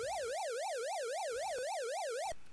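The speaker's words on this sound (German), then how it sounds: "Sirene einschalten, nicht vergessen." Police car siren from the NES game Motor City Patrol, a loud chiptune wail sweeping up and down in steady rapid cycles for over two seconds before cutting off abruptly.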